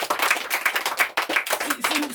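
A church audience at a gospel gathering in Kitengela claps for a bishop, producing dense, irregular applause close by with bursts of rapid hand claps and a voice briefly heard under it.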